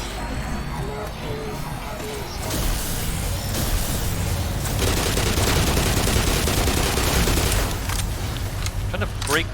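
Weapons fire during the Nihilanth fight in Black Mesa: dense bursts of rapid shots and mechanical clatter build into sustained volleys, with voices talking over the action.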